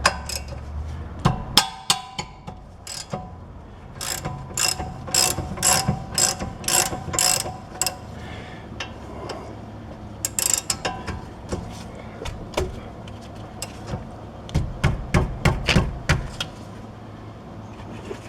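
A wrench ratcheting a 15 mm bolt off a rear brake bracket on a Chevy Trax: rapid bursts of close, sharp metallic clicking, repeated in short runs with brief pauses between them.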